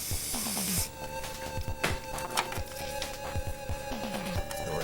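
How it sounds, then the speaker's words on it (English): Contact cleaner sprayed into a 1986 Gottlieb Genesis pinball machine, a sharp close hiss lasting under a second, followed by clicks, taps and a steady electrical hum. "we're just gonna spray a little contact in here"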